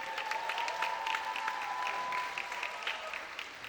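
Audience applause for Fanitra, a talent show performer who played two instruments, steady and fairly soft from start to finish, with no voices over it.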